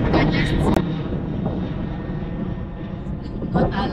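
An airplane engine roars steadily throughout, a dense broad rumble with a few brief clunks and rustles near the microphone.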